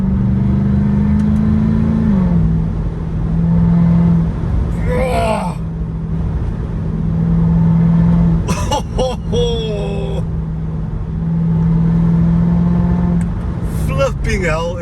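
A Mercedes CLK63 with its M156 6.2-litre V8 pulls under acceleration, a steady deep drone rising and settling through gear changes, heard from inside the car while someone talks over it.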